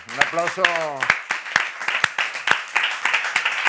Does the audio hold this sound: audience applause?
yes